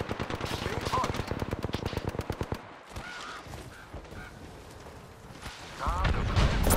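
Rapid automatic gunfire in a shooter video game rattles out in a steady, fast stream for a couple of seconds, then cuts off, leaving quieter scattered game sounds and a later swell of noise.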